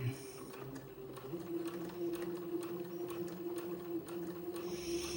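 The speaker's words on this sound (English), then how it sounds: "we're going to sew the lining and the embroidered back strap together." A sewing machine stitches a lining to an embroidered back strap for a sundress, running steadily at a quarter-inch seam allowance with an even, rapid mechanical whir and needle clatter, close and alone.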